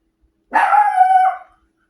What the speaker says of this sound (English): Barking at the door, but nobody's there.